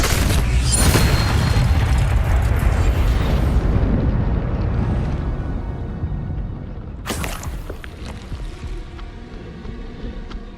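Incendio fire spell cast in Hogwarts Legacy, a loud roaring fiery burst that swells and slowly fades, followed by a second sharp whoosh partway through, with no talking.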